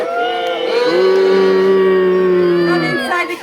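A Renaissance festival audience joins in a storytelling show, voices rising together in a sustained, loud mock dragon roar that swells and holds for about two seconds before fading; human voices imitate the beast.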